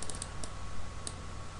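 Keys clicking on a computer keyboard while entering user ID, username, password and email values into a PHP forum database, a few quick taps near the start and one more later over a steady background hum.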